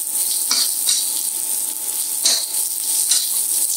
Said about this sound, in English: We'll let these cook for a few seconds until everything is starting to wilt down in the shallots